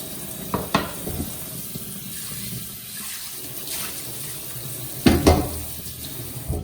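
Tap water runs steadily into a cast iron skillet in a kitchen sink, a close, continuous splashing rush with a couple of louder clanks and splashes as the pan is handled.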